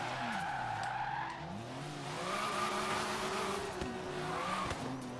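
A Lamborghini in Forza Horizon 3 screeching through a turn, its engine droning as the tires squeal and skid, the pitch sliding up and down through the corner, loud and with no talk.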